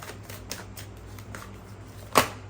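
Tarot cards being shuffled and drawn, a soft papery riffling with light card snaps spread across the moment, then one sharper flick near the end as a single card is pulled out, with a low steady hum underneath.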